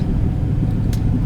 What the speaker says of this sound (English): You got a little wind noise behind you.